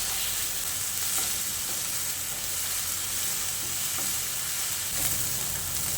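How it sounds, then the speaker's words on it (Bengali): Onion, ginger, garlic, green chili and coriander leaves frying in oil for aloo dum while being stirred, with a steady, close sizzle and occasional scraping that runs without a break and without voices. "তারপরে আবারও পেঁয়াজের সঙ্গে ভালো করে নেড়ে চেড়ে মিশিয়ে নিচ্ছি।"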